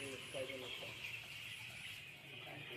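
Broiler chickens in modern cages at a poultry shed give faint, scattered clucks beneath a steady high ventilation hiss, with a voice briefly heard near the start.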